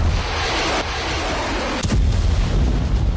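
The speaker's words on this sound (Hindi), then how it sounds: "डोनेट्स्क के वॉर ग्राउंड में भीषण बारूद बरस रहा है।" Artillery fire and explosions on the Donetsk battlefield make a dense, loud rumble with a sharp blast near the middle, followed by continued heavy booming.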